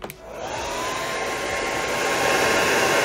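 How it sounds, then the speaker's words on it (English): A handheld hair dryer blows steadily and loudly, switching on and then holding an even, continuous airy whoosh with no talking. "let's do the hair dryer."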